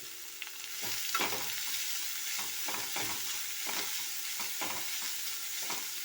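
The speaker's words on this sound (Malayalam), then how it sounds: "ഈ വാരിയിട്ട് എടുക്കുന്നതിനനുസരിച്ച് ഇളക്കിക്കൊണ്ടിരിക്കുന്നത് നല്ലത് തന്നെയാണ്" Shredded cabbage mix frying in oil with mustard seeds and being stirred, a steady close sizzle with repeated scraping strokes of the spoon throughout.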